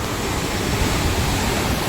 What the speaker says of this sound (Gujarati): અહીંયા આટલું પાણી જાય છે